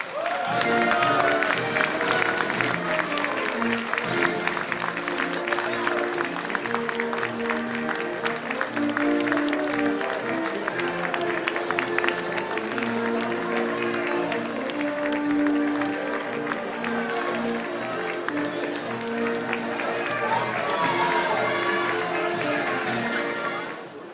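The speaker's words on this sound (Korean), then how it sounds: "박수로 맞아주시기 바랍니다." Audience applause at the launch ceremony of the United Future Party (미래통합당) in Korea, a dense, steady clapping crowd sustained for the whole stretch with music or tonal sound layered underneath.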